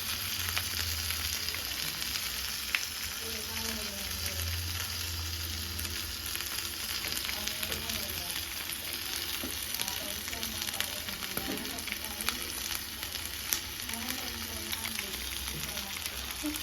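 Masala-coated fish shallow-frying in a pan on a low flame, a continuous even sizzle with soft bubbling and occasional light clicks, faint speech in the background.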